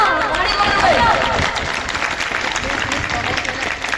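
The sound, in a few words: audience applause at school function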